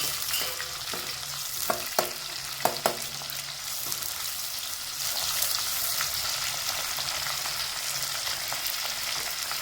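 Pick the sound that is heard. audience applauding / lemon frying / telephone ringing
lemon frying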